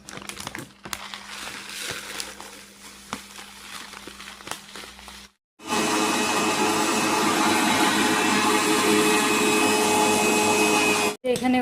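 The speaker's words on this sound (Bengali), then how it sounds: "এখানে ওটসটাকে গুঁড়ো করে নিলাম রুটি বানানোর জন্য" A kitchen grinder pulverises oats into flour for oat flatbread, a loud, steady whirring roar that runs for about six seconds after a stretch of quieter handling sounds and speech, then stops abruptly.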